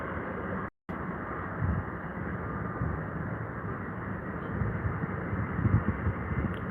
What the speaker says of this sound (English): A Dreamliner from Virgin Atlantic, no less.